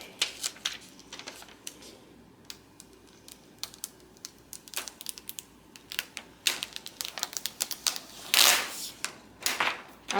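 Siser heat transfer vinyl has its carrier sheet peeled away by hand, giving close, crackly crinkling and sharp tearing pops in irregular bursts that grow louder near the end.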